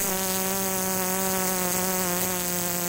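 A high-voltage spark circuit, run with a 24V DC e-bike motor set up as a 220V generator, gives off a steady, loud, close electrical buzz like a fly, even and unbroken throughout with no talk.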